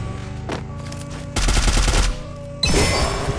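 Rapid bursts of gunfire from the video game Free Fire, several loud volleys of automatic shots in quick succession with brief gaps between them, close and intense.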